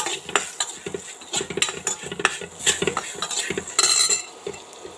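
A metal spoon scrapes and clinks against a pan while turmeric, chili powder and crushed garlic are stirred together, with irregular close scrapes, light taps and a faint sizzle underneath.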